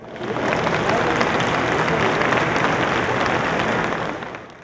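Conference audience giving a strong round of applause to welcome a speaker at an education congress, dense loud clapping that swells in, holds steady for several seconds and fades at the end.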